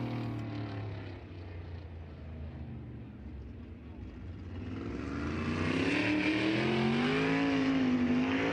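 Race cars on the Lernerville Speedway track during High Limit qualifying, their engines droning and then swelling louder as a car approaches, under a commentator's steady talk.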